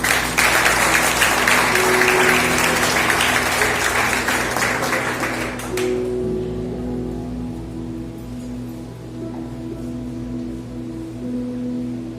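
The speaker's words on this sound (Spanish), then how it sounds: "Dale un aplauso al Señor." A church congregation bursts into loud, dense applause during a worship service, clapping steadily for about six seconds before cutting off sharply into sustained organ or keyboard tones.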